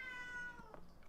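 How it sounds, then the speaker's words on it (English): A cat meows once or twice in the background of a live gaming stream, faint and brief under a soft electronic tone. "whenever you hear meow in the background"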